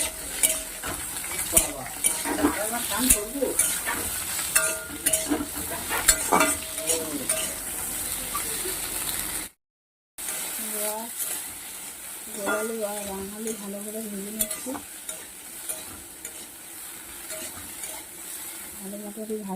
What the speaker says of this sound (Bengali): রাঙা আলু একটা কেটে নিয়েছিলাম সরু সরু করে সেটাকে দিয়ে দিচ্ছি